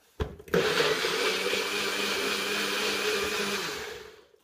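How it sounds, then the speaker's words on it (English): An electric blender mixes muesli ingredients with maple syrup, starting with a sharp click and then whirring loudly and steadily for about three seconds before winding down. "and into your blender"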